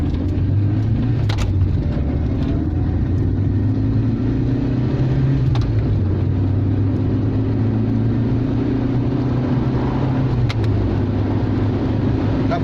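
A Talbot Horizon with a B1 gearbox, driven hard, gives a few sharp metallic bangs as the foot slams the clutch pedal to the bottom of its travel, spaced out over a steady, loud engine drone and road rumble inside the car.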